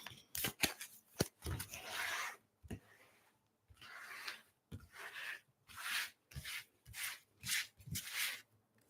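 Tarot cards are shuffled repeatedly up close, quick riffling bursts alternating with brief taps and pauses, fairly quiet with no voices.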